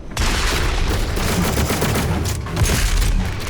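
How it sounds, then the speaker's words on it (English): A double-barrel shotgun in a first-person shooter game fires with a loud, close, dense blast. The roar sustains and rolls on for a few seconds, with no voices over it. "it's not a wholly suitable shot sound effect for this double barrel"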